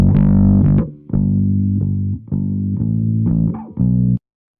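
Bass notes run through a distortion plugin, a series of sustained, buzzy, gritty tones with short gaps between them, each note ringing with a harsh edge before cutting off abruptly.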